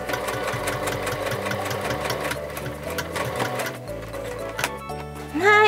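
A sewing machine runs close and loud, stitching the sides of a bag made from an obi, with a rapid rhythmic needle clatter that slows and pauses near the end.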